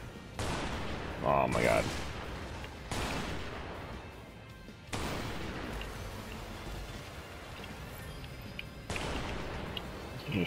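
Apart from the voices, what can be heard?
gunfire in video game Strike Vector EX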